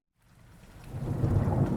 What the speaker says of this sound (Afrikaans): Die wind het opgekom en groot reën het uitgesak.